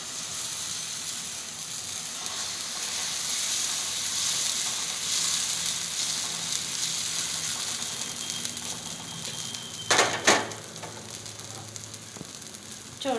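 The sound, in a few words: egg frying in oil in a pan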